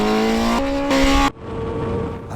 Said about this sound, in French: je suis très content de vous emmener sur le circuit de Losail faire un tour avec la nouvelle CBR Firebird.